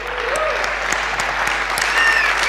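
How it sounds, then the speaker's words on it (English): Applause from a conference audience at a web design event in Berlin, a steady dense patter of many hands clapping throughout, moderately loud and close, with no speech over it. "we owe Mark a round of applause"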